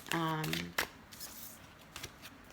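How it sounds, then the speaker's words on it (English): Tarot cards being shuffled by hand in a quick, soft riffle. The shuffling is brief and quiet, and a voice is heard alongside it. "So I'm going to shuffle the cards"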